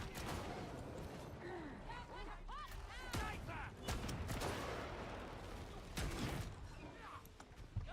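Gunfire in a shooter video game as a bolter fires at a sniper: sharp transient shots at about 3 s and 6 s stand out against a dense, busy mix of game effects and background noise.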